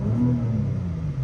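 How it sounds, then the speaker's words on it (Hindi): Exhaust of a BMW M340i heard from inside the cabin under throttle: a steady, deep, moderately loud rumble with a slight rising rev, no talking. "ये गाड़ी के अंदर आवाज़ आती है भाई एग्जॉस्ट की"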